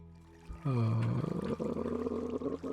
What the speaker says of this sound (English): That would be water right there,